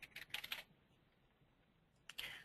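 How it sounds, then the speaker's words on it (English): Typing on a computer keyboard while entering project details into CADWorx P&ID software: a quick flurry of close, crisp key clicks, a quiet pause, then another short burst. "I'll type in Intergraph."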